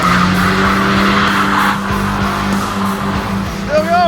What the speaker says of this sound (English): He's gonna get them spinning and go as far as he can with the wheels spinning without using the brakes.